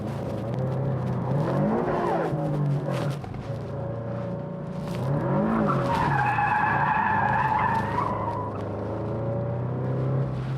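Car tires skid and squeal through a drift while the engine revs and sweeps up and down in pitch, fairly close and loud.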